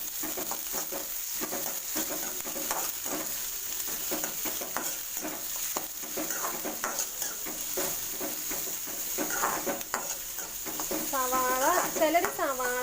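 Onions and small green chillies sautéing in a pan for papaya thoran, giving a continuous close sizzle with stirring scrapes, while a person talks over it.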